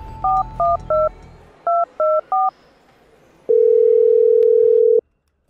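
A borrowed phone plays two quick runs of three touch-tone beeps, then a steady, loud continuous tone that stops abruptly.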